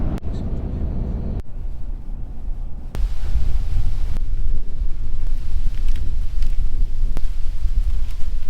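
Wind gusting across a snowy, gloomy campsite at East Canyon State Park, a steady low rumbling roar buffeting the microphone throughout, with a few sharp bumps and clicks of handling.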